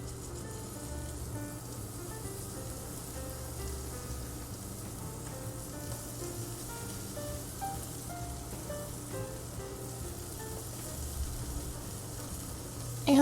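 Cottage cheese pancake batter sizzling in a hot pan over medium-low heat, a soft steady hiss with light crackles, faint and continuous under background music.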